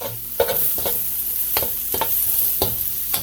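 Garlic and half an onion fry in bacon grease in a pan, a steady close sizzle broken by several rhythmic scraping stirs, no talking.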